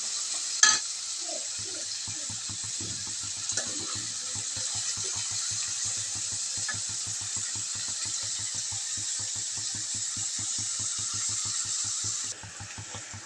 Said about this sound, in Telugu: ఉల్లిపాయలు బ్రౌన్ కలర్ వచ్చేంత వరకు వేయించుకోండి